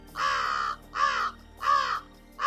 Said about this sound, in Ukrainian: Правильно, ворона.